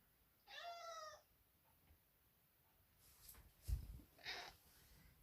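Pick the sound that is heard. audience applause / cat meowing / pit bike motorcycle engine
cat meowing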